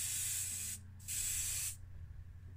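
An aerosol can sprays paint onto Matchbox BMW 3.0 CSL toy car parts in two close hissing bursts, a short spray, a brief pause, then a longer one before it stops.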